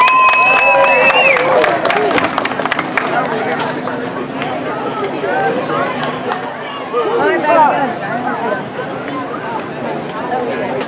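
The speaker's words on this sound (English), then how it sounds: "Everybody give you a round of applause for Melissa School of Dance" Outdoor festival audience claps for a dance school, a burst of fairly close applause in the first few seconds thinning out into crowd murmur and scattered voices, with people talking nearby.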